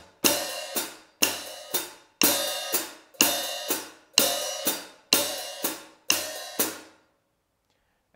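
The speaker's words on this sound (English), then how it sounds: "this would be played usually as alternating eighth notes." Hi-hat heel splash played as alternating eighth notes: seven bright washy open splashes, each cut short by a closing chick, repeating in an even rhythm, loud and close with no talk, ending in silence.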